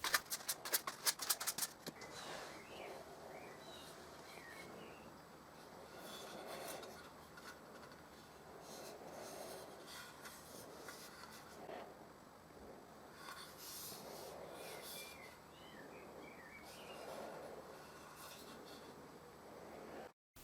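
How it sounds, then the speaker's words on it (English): Very fine sandpaper rubbed by hand over a small wooden part for a pocket tray, giving faint, soft scratchy strokes that repeat every couple of seconds against a quiet background. "Now I use very fine sandpaper, and then I can glue."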